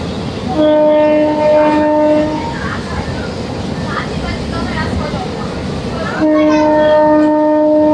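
A Vijayawada–Guntur MEMU passenger train, number 67229, sounds a long, loud two-tone horn near the Guntur junction, the blast fading out mid-clip and then returning strongly over the rumble and rattle of the moving train.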